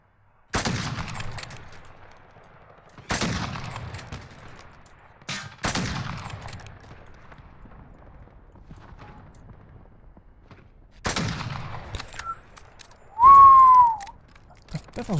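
Sniper rifle shots in the shooter game Call of Duty Warzone: four loud, sharp single cracks spaced a few seconds apart, each with a ringing echo tail, plus a brief whistling tone near the end.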